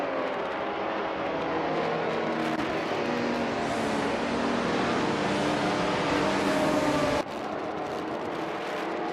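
Race cars, a classic 1977 Porsche 936 among them, launch at the Autodromo Oscar Juan Galvez, a dense continuous roar of many engines that swells and then drops abruptly near the end.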